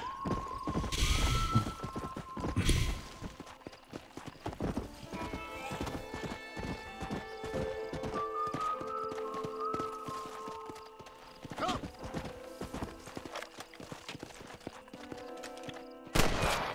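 A horse in the video game Red Dead Redemption gallops with steady rapid hoofbeats and lets out several whinnies, with some game music and effects layered over the run.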